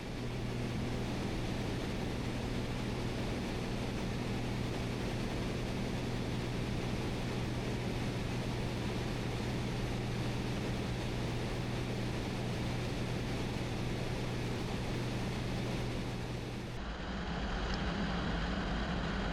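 Inside a Comanche light aircraft climbing toward cruise altitude, a steady engine drone and broad airflow roar hold evenly throughout, shifting slightly near the end.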